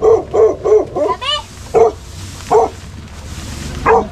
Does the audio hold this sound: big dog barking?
yes